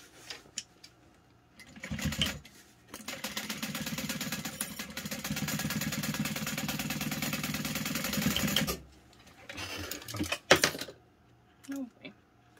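A home sewing machine runs in a steady whir for several seconds while stitching a tag closed, framed by shorter stop-and-start bursts of stitching and a few handling clicks, with a voice speaking between runs.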